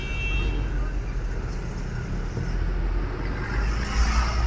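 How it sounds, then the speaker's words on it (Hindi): Dense road traffic on a busy Indian market road during Dhanteras, with a steady, loud rumble of engines and tyres close by and a hint of a horn, all without any break. "ये दूसरी साइड तो देखो अब कितना ख़तरनाक ट्रैफिक है"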